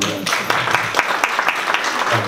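An audience claps at a venue event, a short, fairly loud burst of scattered applause with distinct individual claps, close by, with some voices mixed in.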